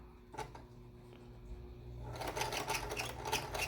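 A sewing machine runs quietly as it stitches fabric face masks. Faint light clicks come first, then a steady, rattly stitching whir builds up close by.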